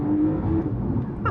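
Porsche 911 Targa 4S Heritage Edition engine in Sport Plus mode, a short close burst as the pitch shifts during a downshift, heard from inside the cabin.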